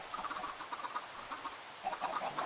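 Chickens cluck softly and repeatedly in a farm pen inside a video game, a faint, continuous series of short clucks and chatters, rising slightly near the end.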